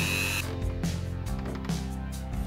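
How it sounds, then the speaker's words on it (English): A small Dremel rotary tool with a sanding wheel whines at high speed as it grinds and sands a plastic helmet, pitch dipping and rising with pressure, close up. "went in with my Dremel tool. I used a sanding wheel to trim away most of the material"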